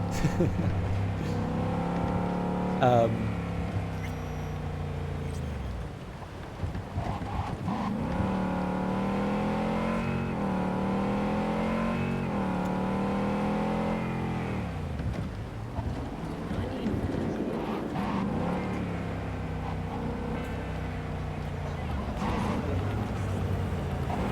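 A car cruising fast in Cyberpunk 2077, a steady engine hum with rising and falling pitch as it accelerates and shifts, droning continuously with road and wind noise.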